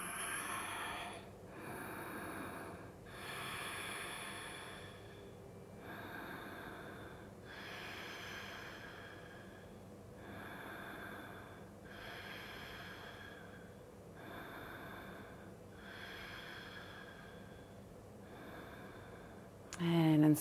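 Deep, steady breathing during a seated yoga twist in a vinyasa flow, heard as a run of regular, evenly spaced inhale and exhale pulses, close and fairly soft, with no talk.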